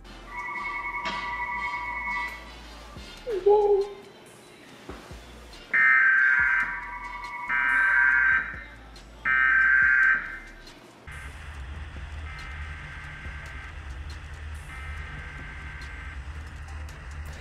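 An emergency alert alarm from a real test in the United States, sounding as a harsh two-tone buzzing blare in repeated bursts, then shifting to a lower continuous drone with fainter, pulsing tones over it.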